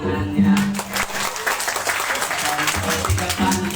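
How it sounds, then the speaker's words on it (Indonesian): Roadside audience clapping at a live Mamanda folk theatre performance by Sanggar Kumbang Banaung, a dense crowd of hands under loud music and an amplified voice. "Penonton di pinggir jalan mana tepuk tangannya"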